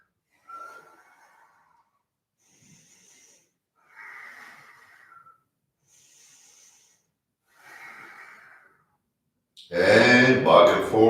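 Slow, audible yoga breathing at close range: several separate airy inhales and exhales with soft hissing edges and pauses between, followed by a louder breathy burst as an instructor's voice resumes.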